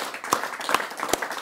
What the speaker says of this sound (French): On va vous applaudir parce que ça force le respect quand même.